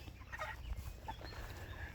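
Chickens in a chicken tractor cluck softly in short bursts, a little distance away, with a low steady rumble underneath.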